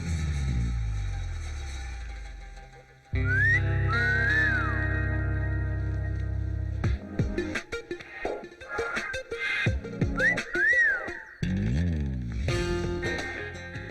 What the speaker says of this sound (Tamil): உதடால ஓ போட்டு அப்புறம் விசில் அடிக்கணும்.